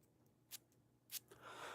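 Two short, sharp sprays from a perfume sample atomizer, quick hissing bursts about half a second apart, close and clear in a quiet room, followed by a softer broad rustle.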